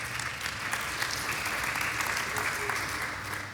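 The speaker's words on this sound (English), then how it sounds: "you can clap for that" A quiet, steady patter of audience clapping rises at a Torah Q&A gathering, moderately distant and even throughout, with a faint low murmur beneath.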